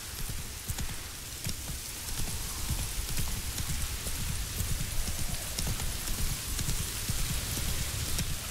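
Horse Roach gallops in Witcher 3, a steady rapid clip-clop of hooves running throughout amid a constant rain-like hiss, with no talking.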